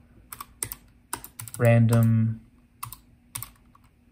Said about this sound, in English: I'm just typing in some